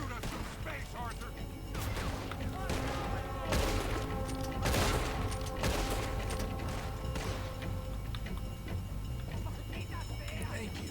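Gunfight in Red Dead Redemption 2: rapid, loud gunshots crack out in dense bursts, several overlapping volleys with sharp peaks and echoing tails, under a steady low background with game characters talking at times.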